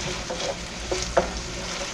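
Beef browns in a hot skillet with a steady, loud sizzle and frying crackle, punctuated by a few stirring scrapes and pops.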